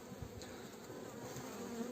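Honey bees drone steadily around an open hive during a queen inspection, a dense continuous buzz holding close and even for the whole stretch with no talk.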